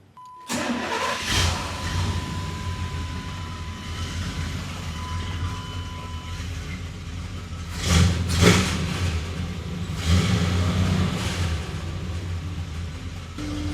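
A car engine starts with a brief crank and then settles into a steady, close idle, rising twice in short revs before returning to an even hum.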